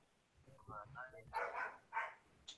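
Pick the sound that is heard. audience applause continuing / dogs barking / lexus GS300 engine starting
dogs barking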